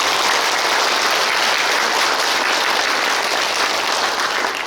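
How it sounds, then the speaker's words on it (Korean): Loud, dense applause of thanks for professors at a Buddhist academic conference celebrating a temple anniversary, steady and unbroken clapping from a large audience with no talk over it. "감사의 박수를 부탁드리겠습니다"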